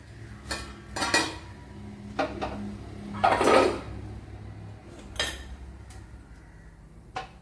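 A lid is set on a cooking pot while a drumstick and shallot dish is being made, giving several sharp metallic clinks and clatters spread over a few seconds in a quiet kitchen.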